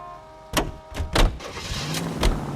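Car door thumps and an engine starting in the LA Noire video game: several broadband knocks and slams spread over a couple of seconds, with a low engine rumble turning over and settling underneath, fairly close and loud.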